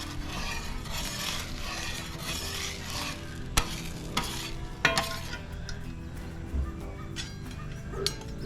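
Kentucky bourbon garlic-butter steak bites sizzling on a griddle while being stirred, a constant crackling fry punctuated by several sharp metallic scrapes and clacks of a spatula, close and moderately loud.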